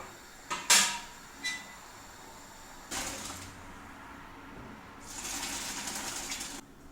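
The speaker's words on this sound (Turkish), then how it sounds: "Hemen bu suyunu arkadaşlar süzeceğim." Boiled rosehip water is strained in a kitchen, with short clatters of a pot and utensils, then two longer bursts of pouring, splashing liquid; no voices.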